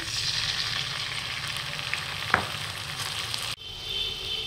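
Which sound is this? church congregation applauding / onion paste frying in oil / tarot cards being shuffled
onion paste frying in oil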